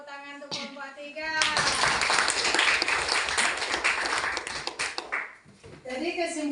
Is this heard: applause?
yes